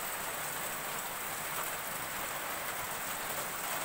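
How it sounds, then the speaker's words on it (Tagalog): Steady rain pours down outside a house with potted plants, a dense, even hiss of drops striking surfaces that continues throughout with no talking. "Ulan."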